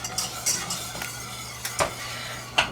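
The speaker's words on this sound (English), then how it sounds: "In my recipe, I say stir it as much as you want." A spoon stirs caramel with butter and half-and-half in a pan, giving soft scraping strokes and a few light clinks against the metal over a low, steady bubbling.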